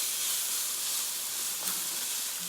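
Tomato paste sizzling in a pan for a lamb chop tomato sauce, a steady bright hiss that stays even and close with a small crackle midway, no voices.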